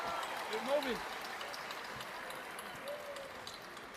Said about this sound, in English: Crowd is crazy.